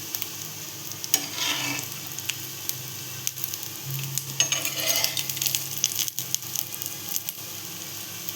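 Vadas made with fresh small shrimp fry in hot oil over a low flame, giving a continuous close sizzle with bursts of bubbling as they are turned, plus occasional light metallic clinks from a spoon against the pan.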